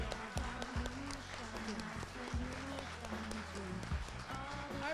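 Audience applause for the makeup artist at a Native fashion show during Celebration 2016, steady clapping from a crowd heard under a voice speaking over a microphone throughout.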